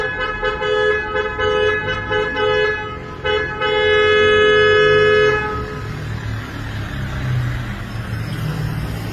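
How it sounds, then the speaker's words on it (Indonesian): A loud car horn blares in long sustained honks with brief breaks, then cuts off, leaving traffic and road noise behind. "dia bunyikan klakson kencang-kencang"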